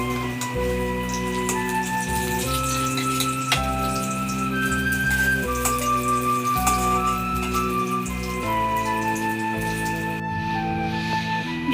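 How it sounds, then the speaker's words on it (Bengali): Eggplant slices frying in hot oil in a home kitchen, giving a constant dense sizzle and crackle that sounds almost like rain, close and steady, with some tonal hum in the background. "বেগুনটা ভাজা হয়ে গেছে"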